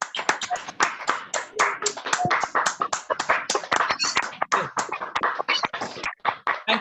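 A room of meeting attendees at a business session breaks into dense, rapid clapping that carries on loudly and unevenly for several seconds before thinning out at the end.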